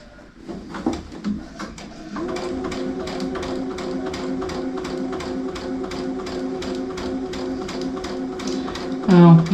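A sewing machine stitches quilt pieces in a steady, fast mechanical patter that runs for several seconds at close range, with a brief louder handling noise near the end.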